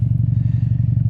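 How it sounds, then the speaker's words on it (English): Ford Mustang EcoBoost S650 with an MBRP exhaust idling from directly behind the car: a steady, deep pulsing rumble, close and fairly loud, with no talking. "The engine is running right now."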